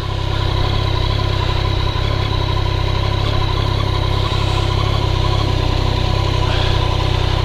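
A motorcycle engine runs steadily at idle at an outdoor bike night in Bardsea, a loud, close, continuous rumble with no voices.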